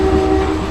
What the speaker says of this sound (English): We have a test train running through.